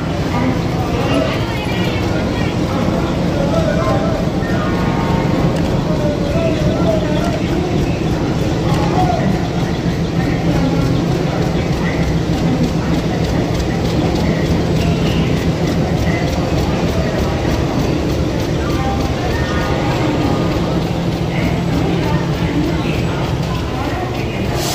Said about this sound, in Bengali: এই যে ট্রেন ঢুকছে, এই যে ঢুকছে পূর্বা এক্সপ্রেস।